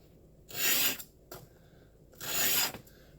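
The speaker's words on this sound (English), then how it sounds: "I'll just roll that burr off the back. 1, 2 little light strokes." A single bevel broadhead gets two light rubbing strokes to roll the burr off its back, each a crisp rasping scrape lasting about half a second, close and clear with a few faint scuffs between.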